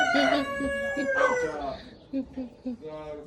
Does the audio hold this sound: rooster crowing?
yes